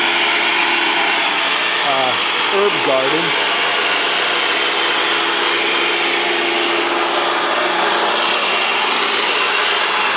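An electric garden tiller churns steadily through soil in an herb garden at a dacha, a continuous loud motor whine and rumble, with someone briefly talking over it.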